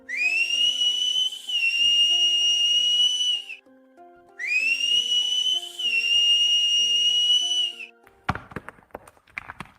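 A whistle hanging from an ID lanyard is blown hard in two long, loud, shrill blasts separated by a short gap, followed by clattering noise.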